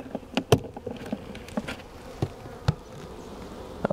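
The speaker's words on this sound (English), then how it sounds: "that's a box of bees." A box of swarming honeybees buzzing, a steady low hum with scattered sharp taps and knocks from the box, close and moderately loud with no talk.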